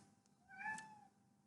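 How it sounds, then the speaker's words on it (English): A single cat meows indoors, one short rising and falling cry at moderate distance, heard alone against quiet room tone. "Hey, you guys probably heard my cat."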